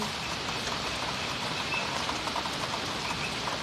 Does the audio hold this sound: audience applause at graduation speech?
no